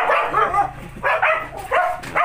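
A dog barks and yips repeatedly in quick, excited bursts, fairly close and loud, with a whiny edge between barks.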